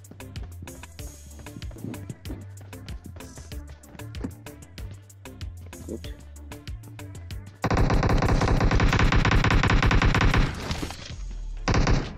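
PUBG video game gunfire: rapid single shots crackle in an uneven rhythm, then a dense, loud automatic burst that holds steady for several seconds before it cuts off.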